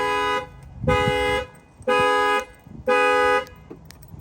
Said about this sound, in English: you're going to see that the alarm's going to set off